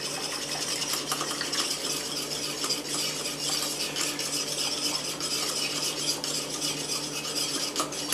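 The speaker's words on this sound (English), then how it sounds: "a little mini whisk. I use about 2 tablespoons." A mini whisk stirs starch into green tea, giving a fast, steady, close clinking and swishing against the cup that runs on without pause.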